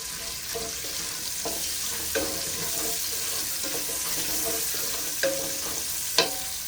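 Onions for paneer pulao frying in oil, a continuous close sizzle broken by occasional spoon taps and scrapes against the pan.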